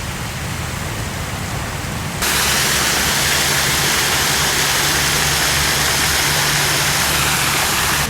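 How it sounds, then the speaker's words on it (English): Steady broadband rush of a waterfall in a town square in Kigali, Rwanda, loud and continuous, jumping louder after about two seconds, with a low rumble of traffic underneath. "here's a nice square with a waterfall in the back"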